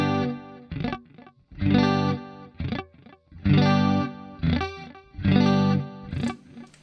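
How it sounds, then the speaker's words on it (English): A guitar plays a chord in repeated bursts, with the strings then muted by easing finger pressure off without moving position; each strum cuts off short, leaving choppy, clipped, slightly effected tones separated by brief gaps. "the notes didn't sound, and I muted the notes in the guitar, but my position did not change"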